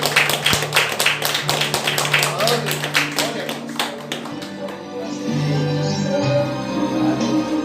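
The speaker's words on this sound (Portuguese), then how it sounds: "E as palmas são para todos." A church congregation claps together in a burst of sharp, irregular handclaps that thin out after a few seconds, followed by a low hum of the hall and a murmuring voice.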